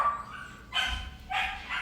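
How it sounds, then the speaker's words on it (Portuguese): A dog indoors barks in two short bursts, a moderately faint bow-wow with a low thump, separated by a brief pause and heard in the background of a quiet room. "daqui a pouco ela começa a latir desesperadamente"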